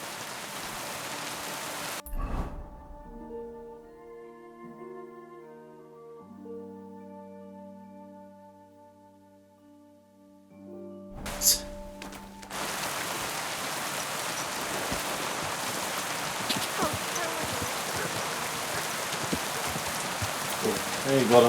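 Steady broadband rain hiss in Kingdom Come Deliverance II, falling loudly at first, cutting out during a quiet stretch of soft sustained music, then returning as a dense, constant downpour.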